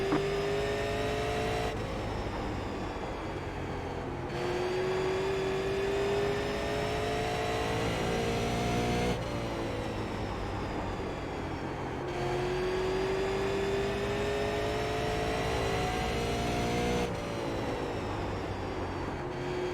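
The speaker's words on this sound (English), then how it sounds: "Green's out. Green flag. Green flag." Super late model race cars in iRacing at Five Flags pull away under green, one engine roaring close and loud through repeated rising gear pulls with short shift breaks, a pack droning behind.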